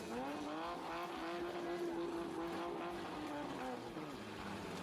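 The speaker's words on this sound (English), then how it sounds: "Slam your brakes on when someone's chasing you." Demolition derby car braking hard with tires skidding and squealing, a continuous loud screech with a wavering pitch over engine roar.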